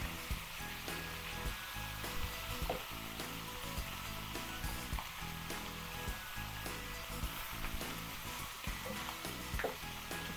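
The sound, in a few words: beef ribs cooking with sauce in a wok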